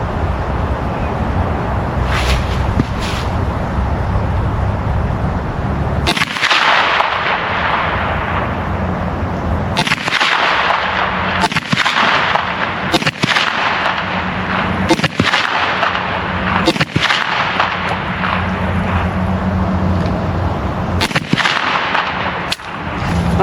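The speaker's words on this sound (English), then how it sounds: "I'm back with my Blazer Brass 115 grain ball ammo. I'm going to shoot at 25 yards" A Kel-Tec Sub2000 Generation 3 9mm pistol-caliber carbine fires Blazer Brass 115 grain ball rounds at a 25-yard target, giving loud, sharp reports spaced a second or two apart, with a couple of quicker pairs.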